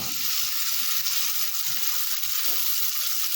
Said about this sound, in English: grab 2 juicy beef patties and put them in a pan